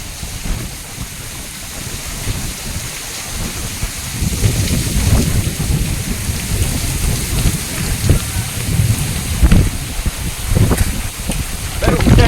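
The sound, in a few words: heavy rain and thunder while fishing at sea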